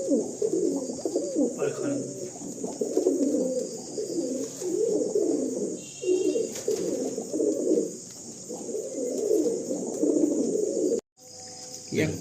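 Several pigeons in a breeder's loft coo over and over in low, throaty bursts, close and steady, with a constant high insect-like whine running beneath and a brief dropout near the end.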